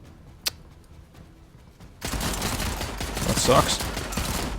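Gunfire in a tactical video game: a single sharp shot early, then a dense, sustained burst of rapid fire and chaotic combat noise, with a brief spoken remark over it.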